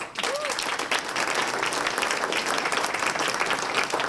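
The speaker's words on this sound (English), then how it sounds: "Please give him a round of applause." Dinner crowd at a chamber of commerce awards banquet applauding a public service award recipient, full dense clapping that rises quickly and holds steady, with a brief whoop near the start.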